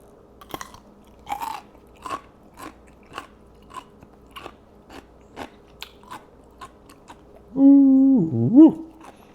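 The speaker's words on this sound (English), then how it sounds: "I hope you heard that crunch. It's still crunching." Crunchy homemade canned pickle bitten and chewed up close: a loud first bite followed by a steady run of wet, crisp crunches at a regular chewing rhythm, ending in a brief voiced exclamation.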